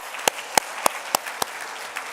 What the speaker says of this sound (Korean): 하나님께 우리 영광의 박수 한번 드려줄게요